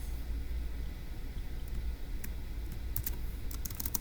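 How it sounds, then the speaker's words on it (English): Someone types on a computer keyboard, with a quiet run of scattered key clicks that builds into a quicker burst near the end over a steady low background hum. "So let me go ahead and type that up in section D"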